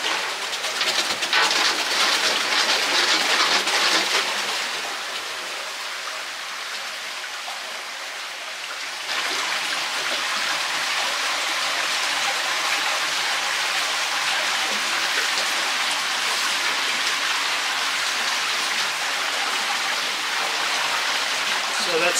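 Water rushes through a watermill shutter on a river in rural Portugal, a steady broadband wash that eases in strength briefly before continuing evenly and close.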